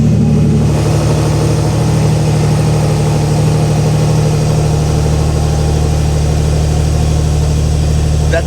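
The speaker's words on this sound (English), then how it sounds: "let's give you guys a little cold start of this car. So she is in Sport Plus, so the valves are open." A 2025 Porsche 911 Carrera GTS fires up from cold in Sport Plus with its exhaust valves open, giving a loud, steady engine rumble with a deep low drone that holds close and continuous throughout.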